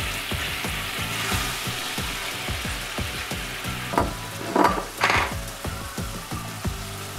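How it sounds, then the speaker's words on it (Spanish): Onion frying in olive oil with a crackling sizzle and a run of rhythmic spatula taps, plus a few louder bursts of spitting oil near the end. "Aquí vamos a freír la cebolla."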